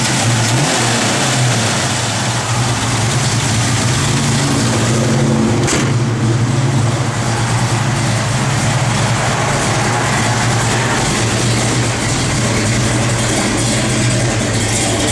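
A 1973 Ford Mach 1 V8 with a mild cam idles loudly and close, a dense continuous rumble with a lopey low throb, holding steady throughout without pronounced revs and no talk over it.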